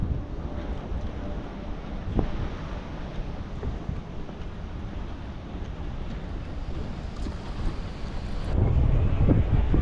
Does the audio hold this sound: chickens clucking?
no